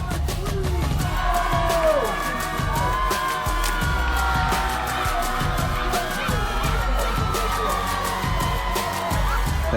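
A huge arena crowd of 15,000 roars with continuous loud cheering, whoops and shouts at an evangelistic crusade event in India, with a dense rhythmic pulse that may be clapping running through it.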